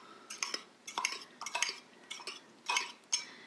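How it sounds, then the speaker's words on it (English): Fork whisking egg and cheese in a cup, rapid repeated clinks and scrapes against the sides in an irregular rhythm, close and clear with no talk. "Then I'm gonna take my fork and mix it really,"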